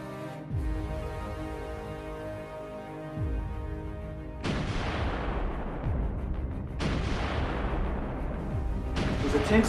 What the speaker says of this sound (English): General Frias unleashed the full weight of his awesome artillery.